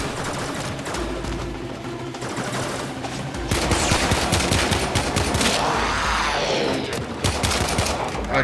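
Rapid bursts of gunfire in the sci-fi shooter Warframe, dense overlapping shots rolling on continuously and growing louder partway through, with no talking.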